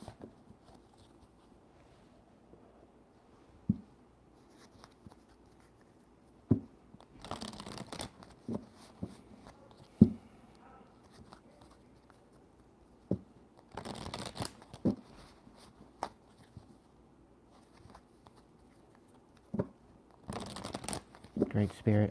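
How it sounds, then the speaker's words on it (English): Tarot cards being shuffled in short bursts of papery riffling and flicking, with quiet gaps between handfuls and soft background noise. "as I'm shuffling these cards"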